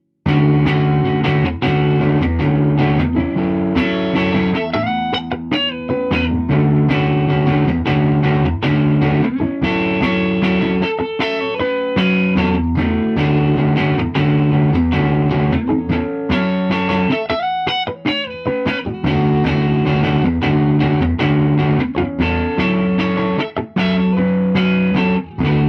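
Distorted electric guitar through a Supro Royal Reverb amp in 60-watt mode plays loud, sustained chords and riffs with short gaps between phrases. It carries on without a break for about twenty-five seconds, with no voice.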